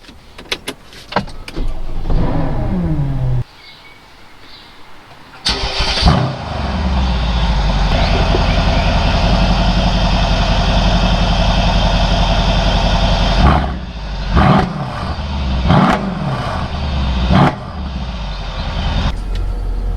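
A 2013 Mercedes SL63 AMG with P30 performance pack starts with a roar, settles into a loud rumbling idle, then revs sharply several times in bursts.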